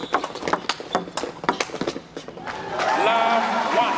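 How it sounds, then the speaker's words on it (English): Feet of four table tennis doubles players shuffling and squeaking on the court floor, a rapid clatter of steps up close, giving way to a louder sustained crowd and arena noise near the end. "You could really hear the shuffling of the feet as this first point started."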